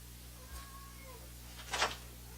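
A pet cat gives two short meows indoors over a steady low hum, the second louder and brighter, with no talking.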